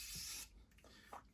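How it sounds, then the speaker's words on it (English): A quick spritz of makeup setting spray: one soft, bright hiss lasting under half a second, close by, followed by near silence. "I go back in with another spritz of the setting spray."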